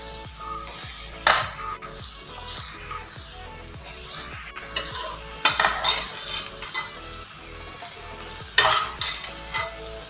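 Chickpeas (kadle) being stirred into masala in a pan for Mangalorean kadle manoli sukka: a spoon scrapes and clinks in repeated strokes over a soft sizzle, with a few louder scrapes standing out.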